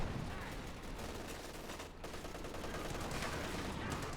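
MG 34 machine gun fire in Company of Heroes 2, a dense, continuous burst-heavy battle mix of rapid gunfire and fusillade with no clear pauses, loud and sustained throughout.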